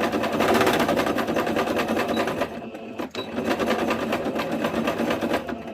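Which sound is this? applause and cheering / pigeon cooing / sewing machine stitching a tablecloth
sewing machine stitching a tablecloth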